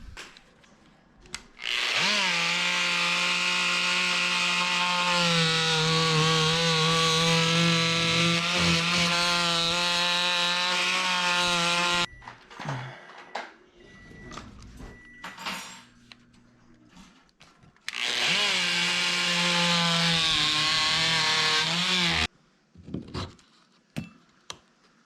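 Power saw cutting custom cedar trim for a corner in a kids' bedroom makeover, two loud sustained whining cuts of about ten and four seconds, separated by quieter handling clatter.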